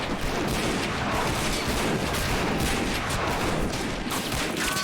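Dense, continuous machine gun fire in the toy-soldier war game Army Men of War, loud and sustained throughout a frontline battle with overlapping bursts and booms and no pauses.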